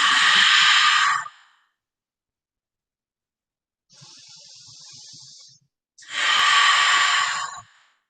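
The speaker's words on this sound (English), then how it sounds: "Nice full inhales. Full exhales." Deep yoga breathing: a long, loud airy exhale, a softer drawn-in inhale after a pause, then another strong full exhale, close and breathy with no talking.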